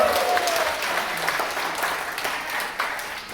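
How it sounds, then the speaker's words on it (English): Audience applause for a rock band at a stage hypnosis show at a campground, a dense, steady wash of clapping from a crowd lasting the whole stretch at fairly even loudness. "How about a big round of applause for our rock band?"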